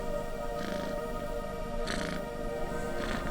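A lemur purring in a children's bedtime story, a soft continuous rumbling purr with a few brief breathy swells, steady and close throughout.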